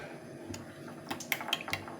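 Duck eggs beaten in a bowl, a few light clinks and taps of the utensil against the dish in a quiet kitchen, with brief irregular strokes and no voices.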